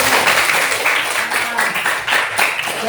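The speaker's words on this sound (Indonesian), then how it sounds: "Oke, tepuk tangan dulu." Sustained applause fills a classroom, a steady dense patter of many hands clapping together throughout, fairly loud and continuous with slight swells.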